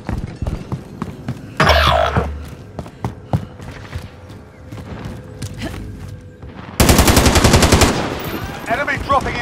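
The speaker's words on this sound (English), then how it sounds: "Friendly sentry gun online." Automatic sentry gun in Call of Duty: Modern Warfare firing long rapid bursts, a dense loud rattle beginning near the end, preceded by scattered distant gunshots and game sounds.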